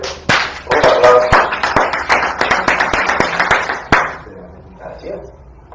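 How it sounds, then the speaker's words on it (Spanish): Applause rings out at a political party school session, a burst of scattered claps building into a dense round of clapping for about four seconds before fading, with voices briefly heard afterward. "Un aplauso para el compañero."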